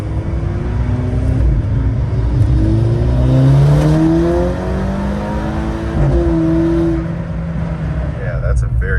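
A VW Mk5 GTI fitted with a new downpipe accelerates, its engine note rising through gears with rising and falling turbo-backed pitch sweeps, loud and close for about nine seconds.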